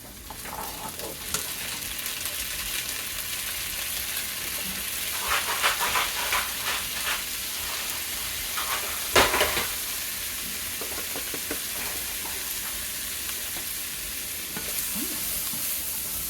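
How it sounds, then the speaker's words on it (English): Rinsed chickpeas and a seasoning mix cook together in a pan, giving a steady low sizzle with intermittent louder stirring scrapes, fairly close and unaccompanied by talk. "So I'm gonna go ahead and add my chickpeas and my seasoning mix and cook all of that together."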